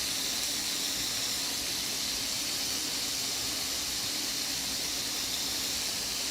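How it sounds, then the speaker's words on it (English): Super-fatty ground beef sizzles in a hot, heavy-bottomed skillet, giving a continuous, dense hiss that stays steady and fairly loud throughout, with no talking. "You can hear the sizzle because the pan is nice and hot."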